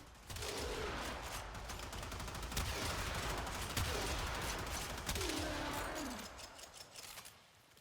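The Corinth shotgun in the shooter game Warframe fires repeatedly in a dense, continuous barrage of heavy blasts, loud and layered with game effects throughout.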